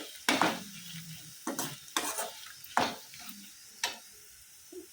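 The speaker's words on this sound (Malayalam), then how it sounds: "ഇനി നല്ല പോലെ ഇളക്കി കൊടുക്കാം" A pan dish of dates with turmeric and salt is stirred, giving five or six sharp scraping strokes of a spoon against the pan over a faint sizzle, close and clear.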